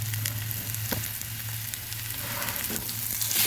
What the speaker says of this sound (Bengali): সব কিছু নেড়ে দিচ্ছি।